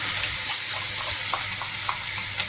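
Tomatoes hitting a hot pan for dried fish curry, a steady close sizzle of frying with a few soft stirring scrapes over a constant low hum.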